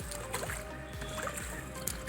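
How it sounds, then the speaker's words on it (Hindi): A boat glides across Naini Lake in Nainital with soft, rhythmic water lapping against the hull and a low steady rumble, moderately close and without talk. "हम विद फैमिली बोट राइड कर रहे हैं"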